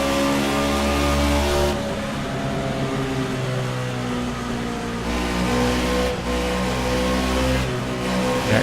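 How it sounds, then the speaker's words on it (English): A race car engine revs hard around the track at Dover, a loud, sustained, buzzing engine tone that rises and falls in pitch as the driver works the throttle. "Can you really hear him pedaling that gas, man?"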